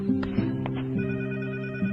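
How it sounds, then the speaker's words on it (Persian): A telephone rings in steady repeated bursts of a tonal buzzing bell, fairly close and loud, with a few faint knocks at the start and no one speaking. "تلفن رو بردار"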